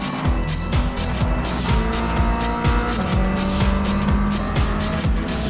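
Tires squeal steadily as a 600-class race car slides sideways through a corner in a racing video game, over a loud, continuous engine roar with rhythmic gear and rev changes, close and sustained.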